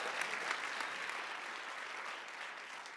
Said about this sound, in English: Please, a big applause for Claudia Edelman, who has called us together today.